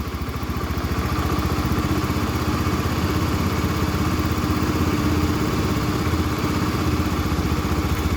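Honda Scoopy FI scooter engine idling just after ignition, a steady close putter with light mechanical clatter that holds even throughout.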